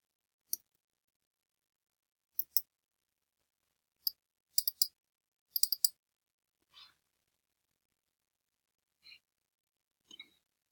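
Key presses on a Mac keyboard, Command plus Spacebar and more keys, heard as quiet, isolated clicks spread out in single taps and short bunches, with near-silence between them.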